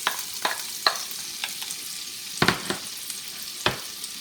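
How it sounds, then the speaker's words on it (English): Onions sautéing in bacon grease for a breakfast casserole: a soft, steady sizzle with repeated scraping stir strokes, several sharper utensil clacks against the pan spaced irregularly, close and alone with no talking. "I'm going to go ahead and saute up these vegetables"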